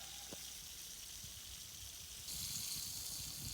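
Water gushes from a pump-fed line on a homestead, the pump plugged straight into a generator, a steady hissing flow that swells louder partway through.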